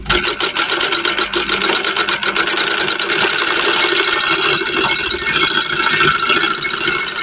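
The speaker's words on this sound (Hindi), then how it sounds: "अब सिंगल कपड़े पे चला कर देखेंगे।" An overlock sewing machine runs continuously, stitching a single layer of fabric, with a loud, fast, steady mechanical rattle and whir close by.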